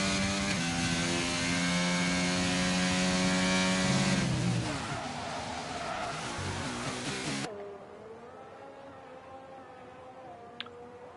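Race car engines roar in a sim racing game at the Austrian circuit, one loud whining engine rising and falling in pitch before fading, then quieter cars continue after a sudden drop.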